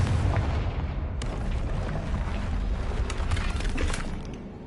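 A Confringo fire spell blasts in Hogwarts Legacy, a loud booming burst with crackling, shattering debris that rolls on for a few seconds before fading.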